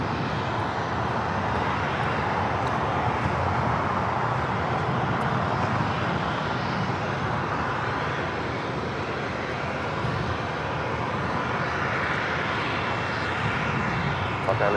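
A Qantas airliner on final approach into LAX gives a loud, sustained engine roar that holds steady for the whole stretch without any talk.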